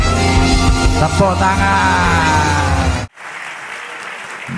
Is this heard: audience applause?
yes